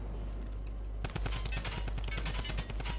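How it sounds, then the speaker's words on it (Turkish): Gunfire in the video game Fortnite Battle Royale, quiet for the first second, then bursts of rapid automatic shots rattling close and loud over a low steady rumble. "Sıkalım mı? Sıkıyorum."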